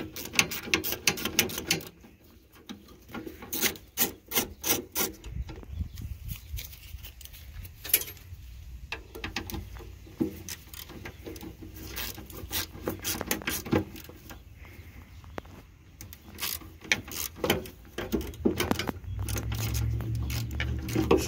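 Ratchet wrench clicking as bolts are backed out of a drop-down regulator under an MCI bus chassis, rapid bursts of metallic clicks at close range in a workshop, with mechanical clatter and a low background hum and no talk.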